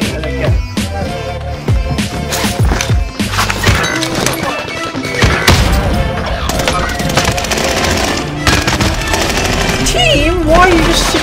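Gunfire in the video game Warzone, dense bursts of automatic shots and impacts that fill the mix loudly and continuously alongside game sounds and music-like effects.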